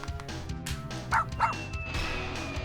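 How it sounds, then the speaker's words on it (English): A cartoonish dog in a Mario Party clone video game gives a few short yips and barks over busy game music, two quick bursts standing out midway. "Wait, did I just throw a dog?"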